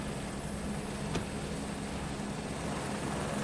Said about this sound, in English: Standing up next to this helicopter.